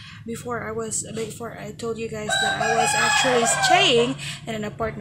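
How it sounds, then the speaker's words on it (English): Chickens and a rooster at a family house crow and cluck repeatedly in the background, loud and close, while someone talks over them throughout. "you will hear a lot of noise in the background, like, for example, the chickens, because, well, my dad has a lot of chickens."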